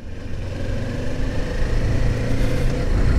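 Kawasaki Ninja 500 motorcycle ridden on the road, its mid-pitched engine droning steadily and rising gently in pitch and loudness as it pulls along, fairly close and without talk.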